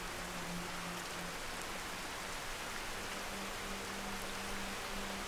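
Steady rain falls in the Skyrim game world, a dense, even hiss that holds without a break throughout, with a faint low hum running underneath and no voices.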